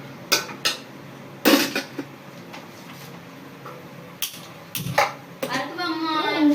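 A spoon stirs palak pappu, spinach dal, in a pot, giving scattered sharp metallic clinks and scrapes against the rim over a quiet kitchen background.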